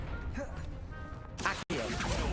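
A Confringo blast spell in the Hogwarts Legacy video game, a sudden loud burst of a fiery explosion cutting in abruptly after game dialogue, with voices heard beforehand.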